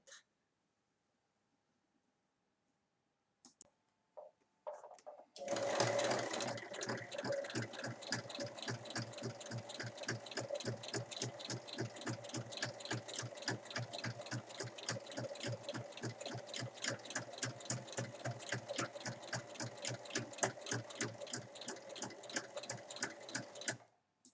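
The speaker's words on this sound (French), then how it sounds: "je vais venir surpiquer les quatre côtés ici et je vais venir surpiquer également mes liens à 1 mm" Domestic sewing machine topstitching 1 mm from the edges of a small fabric pouch and its ties, starting with a few brief taps, then running in a fast, steady mechanical rattle of needle strokes for about twenty seconds before stopping.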